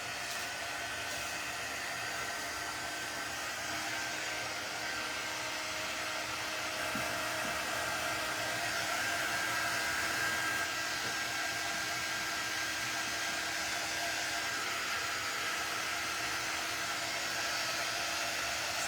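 A hair dryer blows steadily and loudly at close range for the whole stretch, drying a fresh coat of paint on a wooden craft sign, its even whooshing airflow unbroken and with no talking.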